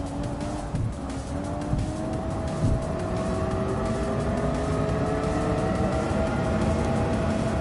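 Porsche Vision GT Spider engine in Gran Turismo 7, a loud sustained racing drone with rising and falling pitch lines as it accelerates, steady and close throughout.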